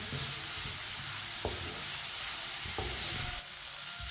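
Chinese kabab mixture frying on medium heat while a spoon stirs it, a steady broadband sizzle throughout with two sharp scraping knocks of the spoon against the pan, close and continuous, no talking.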